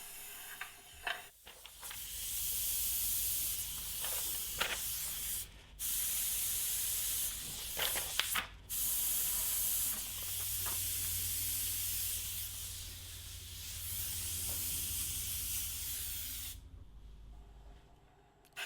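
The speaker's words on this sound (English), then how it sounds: "Now we're switching back to our airbrush with white" An airbrush sprays paint for a faux granite finish with a close, airy hiss in long bursts, broken by short pauses and brief stops between passes.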